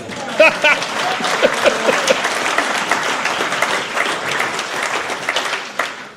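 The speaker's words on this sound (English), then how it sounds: "Let's give Derek a round of applause" A room of attendees at the West Creek Conservancy annual meeting gives a round of applause, a full, steady wash of clapping from a modest crowd, with a few voices and whoops breaking through near the start.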